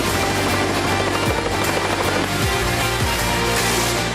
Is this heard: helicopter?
yes